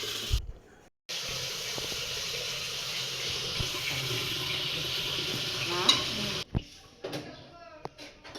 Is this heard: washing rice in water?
yes